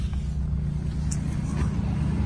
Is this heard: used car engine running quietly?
yes